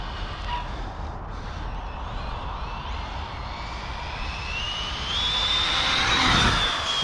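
Arrma Felony 6S electric RC car on a speed run, a rising high-pitched motor whine that builds and peaks near the end over steady outdoor wind rumble.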